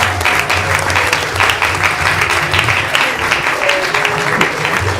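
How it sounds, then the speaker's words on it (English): Steady, dense applause from a large audience clapping for the actors after a devotional stage drama at ISKCON Phoenix, loud and continuous throughout with no voices on top. "Round of applause to the actors."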